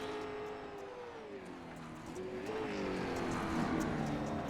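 Race cars lapping the Lakeland oval in practice, engines droning steadily with shifting pitch as they circle, growing a little louder toward the end as the pack nears.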